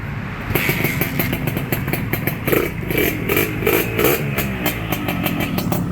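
A 1979 limited-edition Yamaha RX100 motorcycle engine starts and revs close by, a loud continuous rattly drone with repeated throttle blips.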